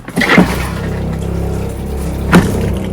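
A toilet flushes in a Gulfstream camper being winterized with antifreeze, a loud close rush of water with a low steady churn and two brief louder surges, no talk.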